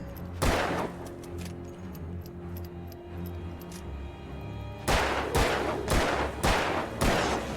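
Gunfire from the Alan Wake video game: a single loud shot early, then after a pause a rapid run of five or six sharp, close shots in an even rhythm.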